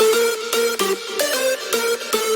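Layered hardstyle synth leads made in FL Studio playing together, bright stacked chord stabs in a choppy repeating rhythm, loud and alone.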